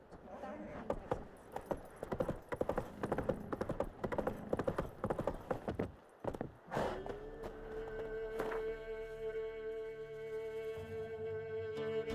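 Horse hooves clip-clopping at a steady walking rhythm in Witcher 3: Wild Hunt, close and distinct, then stopping as a sustained tonal drone takes over.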